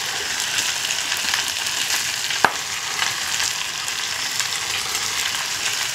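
Ground chilli, turmeric, cumin and salt sautéing in a frying pan, a steady close sizzle throughout with one sharp clink of a utensil midway, no talk.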